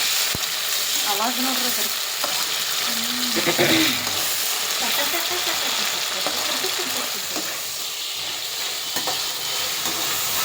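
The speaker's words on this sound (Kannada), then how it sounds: "ಇದು ಟಮಾಟ ಸಣ್ಣ ಫ್ರೈ ಮತ್ತೆ ಮೆತ್ತಗಾಗಬೇಕದು" Tomatoes fry for egg biryani in a pan, producing a constant loud sizzle with occasional stirring, while a person talks briefly over it.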